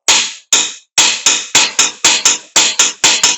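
A torque wrench clicking sharply on the strut bolts of a 2008–2012 Ford Escape Hybrid during front bearing replacement, about a dozen loud, close clicks in quick irregular succession with no talking.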